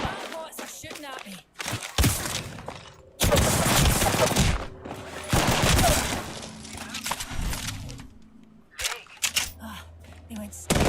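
Video game gunfire from bots, with dense bursts of rapid shots and crackling impacts coming in clusters, loud and close, mixed with quieter gaps and a voice talking over parts of it.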